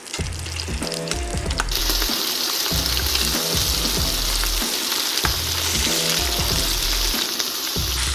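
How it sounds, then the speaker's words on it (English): Lamb shank browning in a pan for birria sizzles loudly and steadily throughout, with a few brief scraping or stirring knocks; no voices. "We're gonna let the lamb shank go for another 5 to 6 minutes on this side to get full-size brown."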